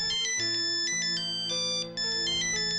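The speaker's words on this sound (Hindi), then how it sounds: "पूरी का फोन है, 1 मिनट।" A mobile phone ringtone plays a bright, repeating electronic melody in short bursts, loud and close, with no one speaking over it.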